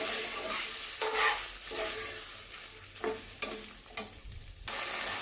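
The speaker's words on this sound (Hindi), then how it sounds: "चलिए अब इसको अच्छी तरह से भून लूँगी मैं कुछ सेकंड के लिए।" Masala being fried and stirred in a pan for dal tadka, a steady close sizzle broken by several distinct scraping strokes of a spoon, with no talking.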